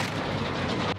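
A single loud, close gunshot blast fires in Call of Duty Modern Warfare and booms briefly before cutting off abruptly.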